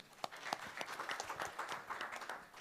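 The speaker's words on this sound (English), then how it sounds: "Let's give him a round of applause as we hear from him." An audience at a panel discussion on agricultural transformation in Africa gives a round of applause, a steady patter of many hands clapping at moderate volume for a couple of seconds.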